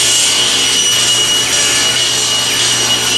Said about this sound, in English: I'm going to go ahead and start working on cutting the side rails to length